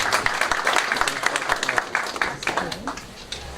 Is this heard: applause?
yes